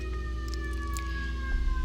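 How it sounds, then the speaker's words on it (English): A passing emergency siren heard from indoors through a window, its steady rising tone sustained over a low background hum, moderately loud and slightly distant. "This is a delightful moment for the siren to pass by my window."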